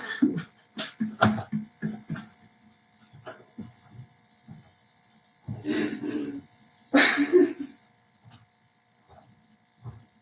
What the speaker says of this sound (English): I gotta blow my nose.